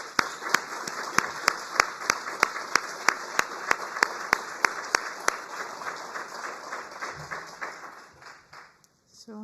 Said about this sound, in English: if you allow me to start a round of applause to celebrate our frontline and unsung heroes all over the world.